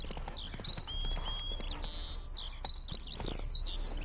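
Horse hooves clip-clop steadily under game ambience in The Witcher 3, Geralt's horse Roach trotting along while birds chirp high overhead and a low rumble fills the background.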